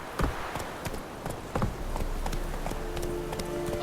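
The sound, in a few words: horse Roach running, hooves, from video game The Witcher 3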